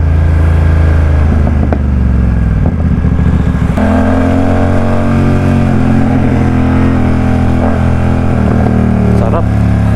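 A BMW F900R big bike engine while riding, a loud, steady drone with shifting pitch as it revs and settles, continuous close to the mic with wind rush throughout.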